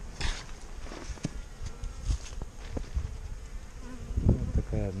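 Honey bees buzz steadily close by at a hive in an apiary, a continuous droning hum with individual insects passing, plus light tapping and handling noises.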